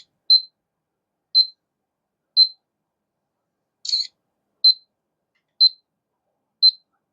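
Self-timer of a Vivitar DVR E401 camera beeping: short, sharp, high beeps spaced about a second apart, with one softer click in the middle, clear against near silence.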